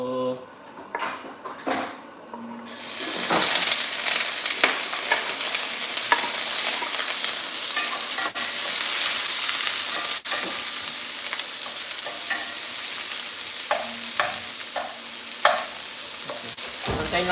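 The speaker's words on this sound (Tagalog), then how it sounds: "antayin lang natin medyo mag-translucent yung natin, yung onion natin" Onion for fried rice is sautéed in a pan. A few utensil clinks come first, then a bright, constant sizzle sets in with occasional stirring scrapes and a voice talking at times.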